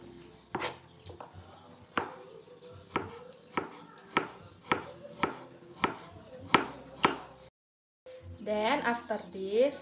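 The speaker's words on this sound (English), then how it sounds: "we peel the garlic and chop" A knife chops garlic on a board for crispy tofu, about a dozen sharp, evenly spaced strikes close by. A short silence follows, then a person starts talking.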